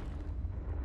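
A Confringo fire spell in Hogwarts Legacy detonates as a short, low, rumbling boom that lasts under a second.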